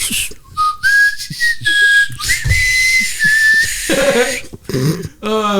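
Loud, piercing whistling with long sustained tones that slide upward between notes, broken by a few short breathy gaps and a burst of noise near the end.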